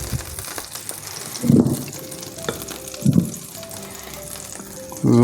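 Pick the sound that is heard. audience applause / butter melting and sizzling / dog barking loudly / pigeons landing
butter melting and sizzling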